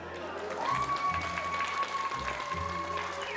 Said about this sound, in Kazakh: Бақырмаймыз, қышқырмаймыз, құр шапалақпен бақалаймыз.